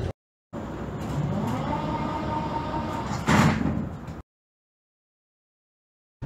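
Doors on a Prague metro 81-71M train slide shut with a steady rumbling whir that ends in a louder thud, and then everything goes silent.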